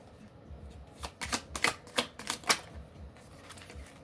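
Tarot cards being shuffled by hand, a quick burst of crisp flapping riffles clustered in the middle, close and fairly quiet, with no talking.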